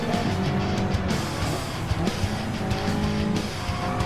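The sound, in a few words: race cars in a racing video game, oversteer into turn one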